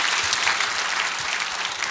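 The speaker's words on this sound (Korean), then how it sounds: "Let's give a round of applause to the Lord." A congregation at a Korean church service in Seoul bursts into sustained applause, a thick, steady wash of many hands clapping close by, loud and unbroken for about two seconds with no talk over it.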